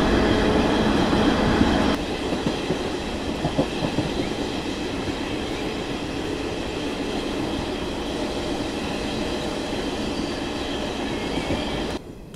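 Yuva Express train running slowly on the rails on the Mumbai–Delhi route past Kota on a foggy morning, with a steady loud rumble and clatter heard from on board that stays continuous throughout, no voices.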